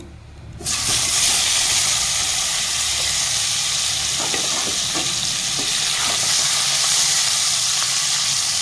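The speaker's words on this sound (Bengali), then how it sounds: "একটু হালকা করে পনিরটাকে ভেজে নেব" Paneer frying lightly in hot oil breaks into a loud, close sizzle after a brief quiet start, then holds as a steady crackling hiss with faint stirring clicks throughout.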